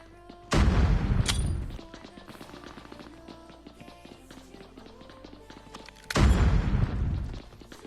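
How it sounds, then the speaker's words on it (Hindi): Two heavy grenade blasts go off in the Scarfall 2.0 mobile shooter, each a sudden loud boom with a rumbling tail, about six seconds apart, with scattered game effects and faint footsteps between them. "तो मैं यहाँ पे फिर से यहाँ पे कुछ ग्रेनेड ट्राई करता हूँ"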